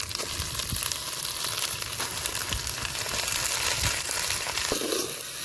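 Half a kilo of chicken sizzling and frying in a pan with ginger garlic paste, a steady, loud, close hiss with faint stirring crackles throughout and no talking.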